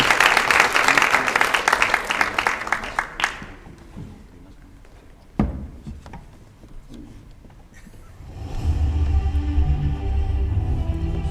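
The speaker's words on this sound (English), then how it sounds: "Let's give them a big round of applause." An audience at a football sports awards ceremony claps and applauds loudly for about three seconds. The clapping then fades into quieter room noise, a sharp thump, and a low background murmur.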